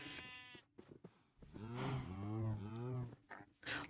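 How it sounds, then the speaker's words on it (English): Sheep bleating in a video game, a few drawn-out, wavering baas close by, separated by short quiet gaps. "Oh, wait, there's sheep over there."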